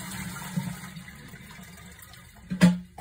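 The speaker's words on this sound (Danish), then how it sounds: "så tøm lige toiletcisternen for vand. Simpelthen bare ved at skylle ud" A toilet cistern is flushed to empty it of water before the toilet is replaced: a low rushing hum, then a sudden loud surge of draining water near the end, close by, with no speech.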